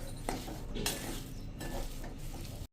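Samosa masala is stirred and mixed in a hot pan, with soft scraping and a few metallic clinks of a spoon over a low, close sizzle.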